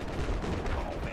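A short, dense burst of loud gunfire in the video game Battlefield 4, heavy booming shots packed close together with no pause.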